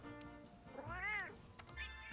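A cat in Monster Hunter World Iceborne gives a single rising-and-falling meow near the middle, set against a steady game music and ambience bed.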